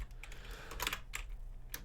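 Keyboard typing with irregular clusters of keystrokes, close and fairly quiet over a steady low hum, no talking.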